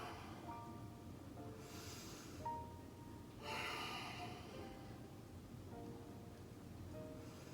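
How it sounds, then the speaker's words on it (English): Very faint, slow deep breaths, two long airy inhales or exhales spaced a couple of seconds apart, heard alone against a quiet background hum. "Take 3 deep breaths."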